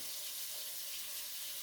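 Warm tap water runs steadily into a kitchen sink while food is being readied for submerging, a continuous close hiss and splash with no talking.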